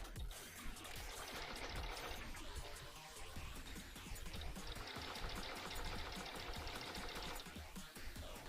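A sewing machine runs steadily through flat felled seams on undergarments, its fast needle chatter continuous and close throughout, with no talking.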